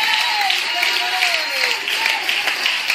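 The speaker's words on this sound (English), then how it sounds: "Clap your hands unto the Lord." Congregation clapping hands during a Sunday church service, a dense, steady wash of applause-like clapping with a voice speaking or singing over it throughout.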